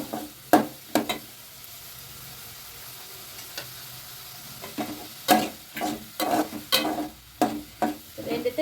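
Egg noodles get stirred in a pan, a run of sharp close scraping and clattering strokes over a soft sizzle, sparse at first and then quick and rhythmic toward the end.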